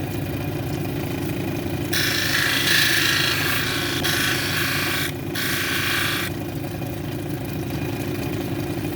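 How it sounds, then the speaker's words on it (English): A dendritic opal cabochon pressed to a 280 grit wheel on a running lapidary machine, a loud rasping grind in two bursts over a steady motor hum, alone without talk. "now we're going to run it on the 280 grit to get the marks out from the 220 grit"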